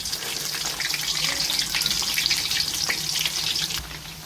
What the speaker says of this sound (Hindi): तो चलिए हम इनको फ्राई करते हैं।